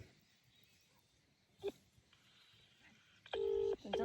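Two short electronic phone dialing tones sound near the end, preceded by a brief faint beep, over quiet background noise in a groundnut field.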